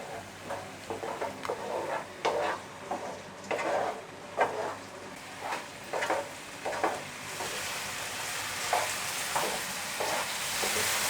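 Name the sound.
ginger garlic paste sautéing in pan with tomato and onion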